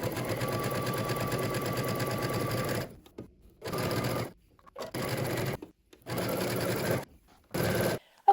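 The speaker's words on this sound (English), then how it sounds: "I am gonna do my casing using a very narrow zigzag stitch so that my mesh can" A sewing machine runs a very narrow zigzag stitch along a stretchy mesh casing, humming in several steady bursts: one long run, then four short ones separated by brief silences.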